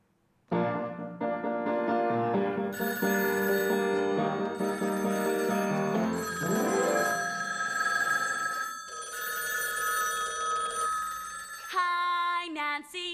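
Telephones ringing in a small-town musical film, several bells trilling at once and overlapping in a busy, loud chorus that keeps going, with a brighter electronic-sounding ring near the end.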